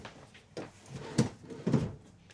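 Camper cupboard doors opening and closing inside a travel trailer kitchen, giving a few soft knocks and thuds in quick succession, close by with quiet room ambience.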